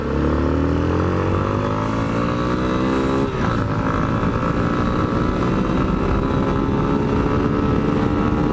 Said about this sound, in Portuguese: E eu resolvi dar uma acelerada com a moto do Gilmar agora.